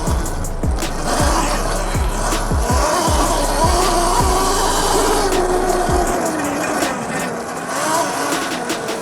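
A Qronge X1 Spark M e-bike is ridden hard over rough ground, giving a continuous rolling, rattling rumble with a series of low thumps over the first six seconds.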